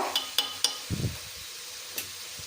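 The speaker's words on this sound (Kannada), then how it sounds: "ಎಲ್ಲ ಹಿಂಗೆ ಚೆನ್ನಾಗಿ ಬೆರೆಸ್ಕೊಳ್ಬೇಕು" A spoon scraping and clinking against a pan while sweet pumpkin palya is stirred, a few sharp taps and a short soft mixing shuffle over a faint background hiss.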